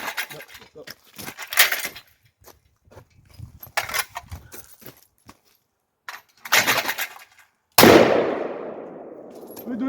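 Heavy Raging Judge Magnum revolver in .454 Casull fires one loud, sharp shot near the end, its blast ringing out and decaying, after several stretches of talking outdoors.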